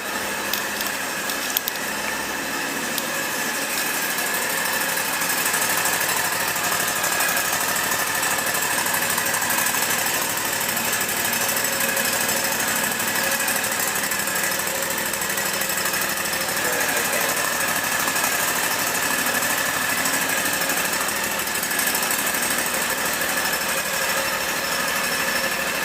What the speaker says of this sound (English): Let's take a look at the engine while it's running.